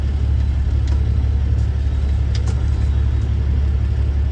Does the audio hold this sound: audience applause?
no